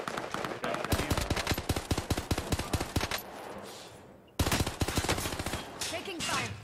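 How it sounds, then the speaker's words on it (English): Automatic gunfire in Call of Duty: Warzone, rapid loud bursts of shots in quick succession, broken by a brief pause before another sustained volley. "Taking fire."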